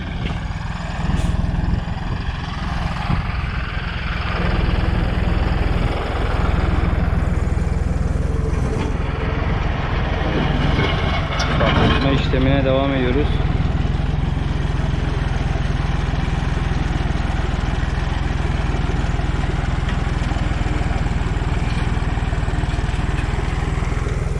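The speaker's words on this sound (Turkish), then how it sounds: "Traktörümüz geliyor." A tractor engine runs loud and close on a farm during subsurface drip irrigation work, a continuous low rumble with a chugging undertone that never lets up.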